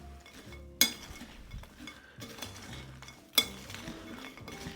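Desiccated coconut and walnuts being mixed in a bowl, giving close, light clinks and scrapes of a utensil against the bowl with two sharper knocks, sparse and irregular with no talking.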